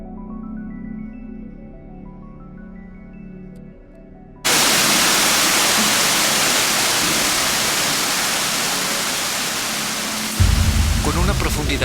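Rushing water flows deep inside a mine, a loud steady broadband roar that starts abruptly after a few seconds of quieter tonal sound and continues alone, swelling slightly toward the end.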